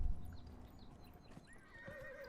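A horse in the video game Dragon Age: Inquisition snorts, then lets out a rising whinny, with hoof clip-clops near the start, fairly close and moderately loud.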